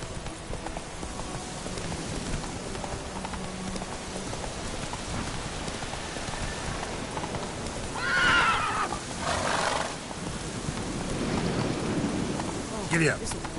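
Horse ridden through rain in the video game The Witcher 3, with steady rain and hoofbeats under a rider's occasional commands, a whinny around the middle and a brief louder burst near the end.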